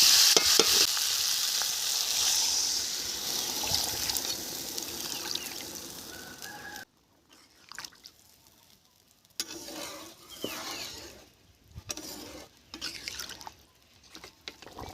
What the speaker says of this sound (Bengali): এখন জল ঢেলে দেবো